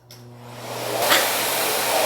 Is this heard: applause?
no